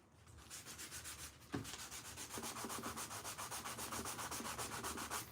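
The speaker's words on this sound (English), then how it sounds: "So we're just hand sanding the top." Quiet, close hand sanding of a turned wooden salt and pepper shaker top, with fast even back-and-forth rubbing strokes in a steady rhythm and a single soft knock partway through.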